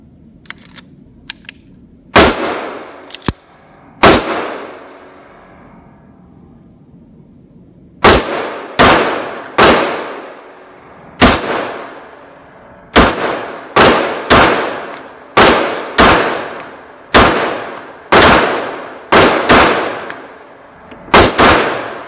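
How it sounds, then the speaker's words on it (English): Para Ordnance D10 Warthog pistol fired in about fifteen sharp, loud gunshots, a few isolated reports followed by a steady string of evenly spaced shots, each decaying quickly; a few faint clicks precede them and no one talks. "Let's go shoot it."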